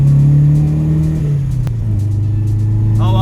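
A Toyota Corolla KE55 with carburettor trouble drives along, its engine note droning loud and close from inside the cabin, pitch easing down as it settles into a steady cruise.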